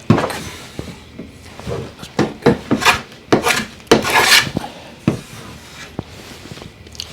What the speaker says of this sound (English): the plane will also take off the roughness from the saw